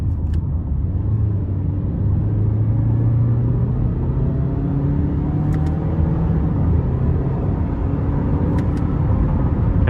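A 2011 Toyota Camry LE with a 4-cylinder engine pulls away in sport mode, its engine note a steady low rumble that climbs gradually from inside the cabin, loud and continuous.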